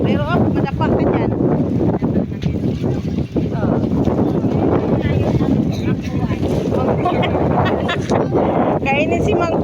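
Strong wind buffets and roars continuously against the microphone, with voices talking intermittently beneath the gusty rumble.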